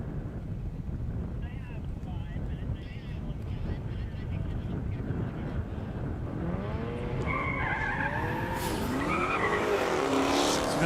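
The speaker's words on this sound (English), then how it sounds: "Sounds like maybe the Gringo Tegra himself, Miles Kerr's coming back out, make another pass" A race car makes a high-speed pass on a half-mile airstrip at a 200+ mph drag event in Indiana. A steady roar is buffeted by wind noise, then a rising, sweeping engine whine climbs loudly toward the end.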